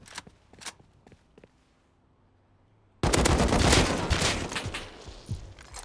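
AK rifle fire in a Snowball video game match: a few faint taps, near silence, then a sudden loud, sustained burst of automatic gunfire that keeps rattling to the end.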